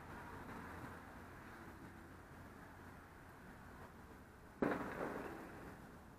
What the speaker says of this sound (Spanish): Podréis escuchar más o menos los petardos que suenan.